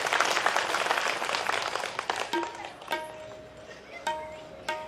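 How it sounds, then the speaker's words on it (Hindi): A seated crowd in a pandal at a Ram Katha gathering claps loudly at first, then the applause thins out into scattered claps while tonal musical sounds and a voice come through. "एक बार जोरदार तालियां आप सब लोग बजाएंगे।"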